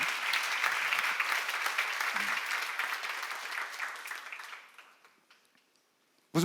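Audience applause at a church seminar on Romans, a dense roar of many hands clapping that fades gradually over several seconds to near silence before a sudden sharp noise at the end.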